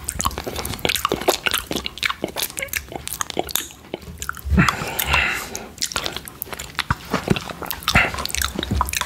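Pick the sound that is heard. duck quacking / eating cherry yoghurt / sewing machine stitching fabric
eating cherry yoghurt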